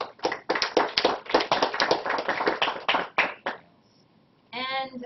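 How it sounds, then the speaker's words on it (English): Applause breaks out in a presentation room for students at a Georgia State University Belize geosciences exchange, a few seconds of close, sharp, uneven clapping by a small audience that dies away, followed by a brief voice. "I just wanted to applaud the students in the room for a great job"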